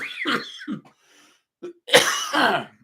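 Several harsh coughs from one person, a quick cluster of bursts at first, then after a short pause a louder, longer coughing fit with a throaty rasp, close and dry.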